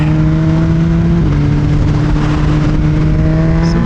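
A car engine revs steadily close behind the recording position, a loud sustained engine drone with a slight pitch step partway through and no talking over it.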